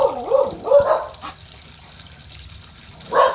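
A few sharp dog barks, a quick pair at the start and another bark at the end, over a quiet background with faint running water.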